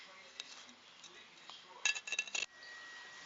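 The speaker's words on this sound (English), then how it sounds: "Let's stick the lid on, get it into the microwave" A short burst of light glassy clinks and taps as a microwave kiln lid is placed over glass, several quick contacts close together, over a quiet room background.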